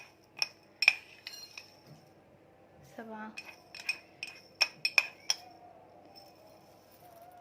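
Sharp metallic clinks and taps come one after another, a spoon scooping rice from a dish at an uneven pace, close and fairly quiet, with a brief low sound partway through.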